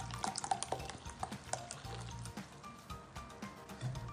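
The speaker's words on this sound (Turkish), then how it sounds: "İyice karıştırıyorum" A spoon stirs oil and mineral water together for a börek sauce in a bowl, giving soft liquid swishes and light clinks against the dish, quiet and close.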